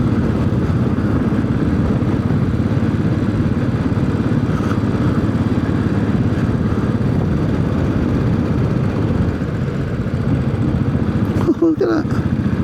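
A Royal Enfield Classic 500 motorcycle drones steadily on the road, its engine and wind noise loud and continuous throughout, with a brief clatter near the end.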